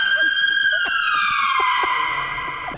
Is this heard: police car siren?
yes